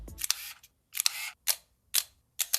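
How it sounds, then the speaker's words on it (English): A camera shutter fires five separate times, each a crisp, sharp mechanical snap with a short rattle after it, spaced about half a second apart against near silence. "Rangefinder cameras generally feature a quiet shutter, as there is no mirror slapping with each shot."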